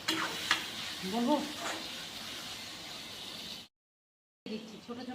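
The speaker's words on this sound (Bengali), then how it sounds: "দিচ্ছি ছোটো ছোটো আলুগুলো একটু নাড়িয়ে" Small potatoes are stirred into mutton frying in a pan, giving a soft sizzle with a few scraping stirs and clinks before a brief silence, then frying resumes quietly.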